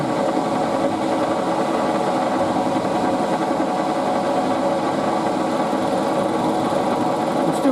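Steady machining cut on an aluminium windscreen bracket for a WW2 Morris CS8, taking half-millimetre passes with lubricant: a continuous, even grinding whir at constant loudness with no pauses.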